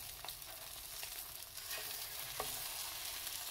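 Omelette frittata frying in a pan: a soft, steady sizzle with faint scraping and a light tap or two as it is turned, quiet and continuous, no speech.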